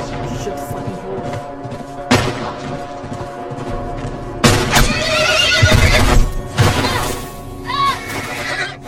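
A horse neighs and whinnies loudly in The Last of Us video game, repeated calls amid bursts of gunfire and crashing impacts during chaotic combat.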